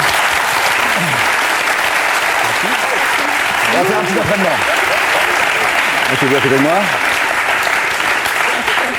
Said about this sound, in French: Je vais vous demander de vous lever sous les applaudissements du public